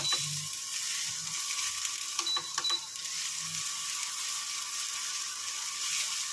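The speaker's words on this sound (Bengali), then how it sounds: "প্রথমে এটা একটু ভেজে নেবো, একটু আঁচটা কমিয়ে দেবো।" Large halved green chillies fry in a pan over lowered heat, giving a steady, close, even sizzle with a few faint clicks and scrapes, and no talking.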